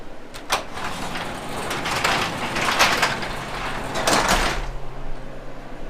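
A sliding door rattles and rumbles along its track with clacks and scraping, ending in a heavy bang as it shuts.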